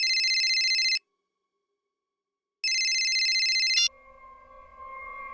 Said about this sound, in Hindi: अब इस वक्त किसका फोन आ गया?